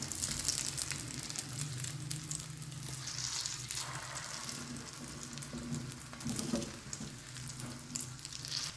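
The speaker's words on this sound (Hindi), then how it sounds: "उसके बाद हम इसको फ्रिज में स्टोर कर देंगे। इसकी साइड जो है हमें बहुत ही एहतियात से चेंज करनी है" Shami kebabs fry in a pan with a steady, dense sizzle and crackle that holds evenly throughout at a moderate level, with no voices.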